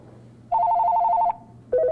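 A telephone rings loudly inside a public library in a warbling electronic double-tone, one long ring followed by the start of another after a short pause.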